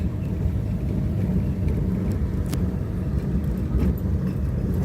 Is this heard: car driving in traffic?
yes